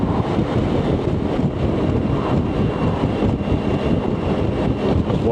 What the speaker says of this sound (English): I'm going to get some good gusts blow me sideways.